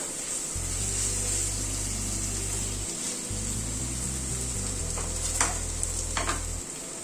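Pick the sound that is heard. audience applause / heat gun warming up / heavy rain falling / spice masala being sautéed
spice masala being sautéed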